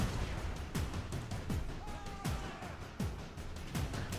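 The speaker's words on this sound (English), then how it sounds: "did they just try and fire and hit a tree?" Rocket artillery firing in a Total War Warhammer battle, Empire versus Beastmen: a string of sharp booming launches and bursts in fairly regular succession, with faint whistling streaks between them and no talking.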